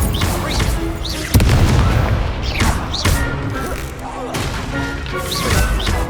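A fire spell blast in Hogwarts Legacy lands as heavy booming impacts among other combat effects, set off by a sharp loud hit near the start and followed by further crashes and whooshes.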